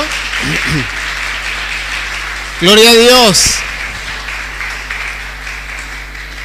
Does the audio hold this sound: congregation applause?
yes